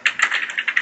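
Quick, close keystrokes on a computer keyboard while coding a web page, an even rapid run of taps with no talk.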